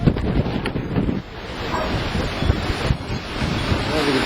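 Hurricane Wilma's wind in Royal Palm Beach, Florida, roars in a loud, continuous buffeting rush across the microphone, with gusts swelling and easing and no break.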